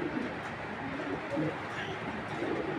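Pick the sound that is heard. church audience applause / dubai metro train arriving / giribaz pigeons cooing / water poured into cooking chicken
giribaz pigeons cooing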